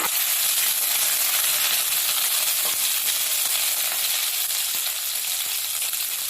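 Green chilli, crushed ginger and garlic sizzle steadily in a hot frying pan, a dense, even hiss with faint clicks, close and loud, and no talking.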